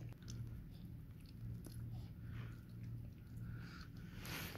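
A young Jindo puppy gnaws on a bone close up in a rural setting, with irregular soft crunching, scraping and wet chewing sounds, low steady background hum throughout.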